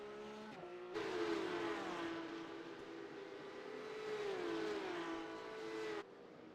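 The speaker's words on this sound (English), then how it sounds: "And you can see these guys slowing down really, really quick. Back up to speed, shifting through the gears." A race car engine in the iRacing sim, Circuit Gilles-Villeneuve, drones steadily then rises and dips in pitch as it shifts through gears, loud and continuous under a faint tire hiss.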